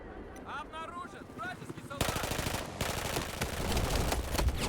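Rapid automatic gunfire from a weapon in the video game Battlefield 4, loud bursts of rattling shots after a quieter stretch with voices, sustained and close.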